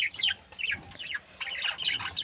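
Sparrows chirp and squawk in quick bursts around a clay feeding pot, several birds calling close by in an uneven, busy stream of sharp high notes.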